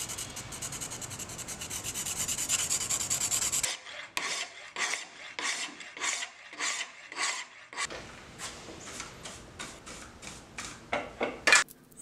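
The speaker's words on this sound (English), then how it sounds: "followed by another hour plus of hand grinding." A hand file rasps along a steel knife bevel, first in a continuous grinding scrape, then in a series of distinct, rhythmic back-and-forth strokes, close and clear with no talking.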